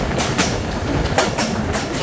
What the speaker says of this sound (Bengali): এবার মনে হচ্ছে ট্রেনটি তার সর্বোচ্চ গতিতে উঠেছে।